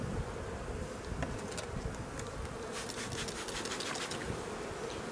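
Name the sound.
honeybees buzzing in hive supers of a colony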